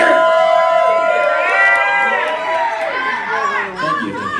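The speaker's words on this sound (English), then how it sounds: "I need to hear a very big crowd cheering" A crowd cheers and whoops at a mayoral debate between Alex Strenger and Travis Duncan, loud and close, with excited voices rising together and then trailing off into scattered shouts.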